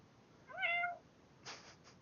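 A person imitates a cat with a single rising and falling meow, short and close, followed by a faint breathy sound, with no other talking.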